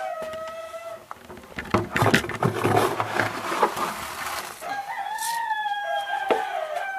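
A rooster crows loudly nearby at a farmyard coop, with chickens clucking around it, two clear crows bracketing a stretch of busy clucking and scratching noise.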